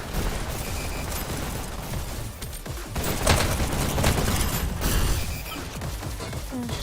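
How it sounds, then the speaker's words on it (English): Shotgun blasts in an e-sports VR shooter match, a dense, steady barrage of booming shots and crashes that stays loud throughout, with no clear gaps between impacts. "that's the shotgun"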